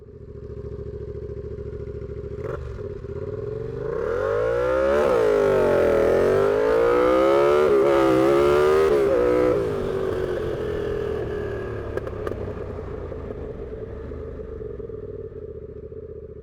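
A turbocharged Yamaha MT-07 motorcycle revs and accelerates hard through rising gears, its engine note climbing and swelling loudly in the middle before easing back to a steadier drone, heard alone without talk.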